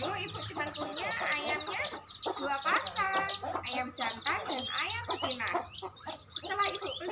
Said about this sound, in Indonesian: Dulu ibu cuma punya ayamnya 2 pasang, ayam jantan dan ayam betina.